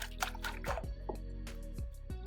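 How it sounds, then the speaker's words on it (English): Beaten eggs pour into soft bun dough for salted cod fish buns, giving a short, wet liquid glug and drip with small squishy splashes close by in a quiet kitchen. "So we pour the eggs in."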